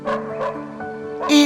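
A dog gives a few quick yips and barks in close succession, loud and near, with a short whimpering tone between them.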